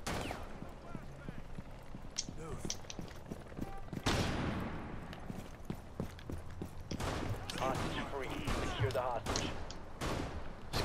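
Gunfire bursts and shots ring out in a Rainbow Six match, scattered and mixed with footsteps and clattering movement while players talk over the action throughout.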